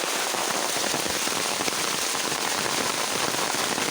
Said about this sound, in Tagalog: Ay, sugod sa ulan. Bagyo.